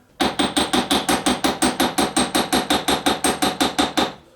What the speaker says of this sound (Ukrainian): Вирівнюємо шматок дроту, той, що залишився від пружини.